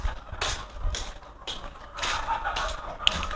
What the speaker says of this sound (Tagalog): Yun yung mga alaga naming manok.